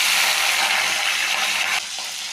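Mustard seeds, cumin and green chilies sizzle in hot oil in a kadai, a bright, steady crackling hiss that stays loud and close, then drops off noticeably near the end.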